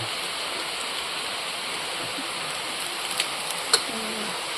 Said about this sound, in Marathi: पाऊस पण आला की बाहेर